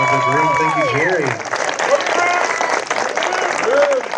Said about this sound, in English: That's a big round of applause for the father of the groom.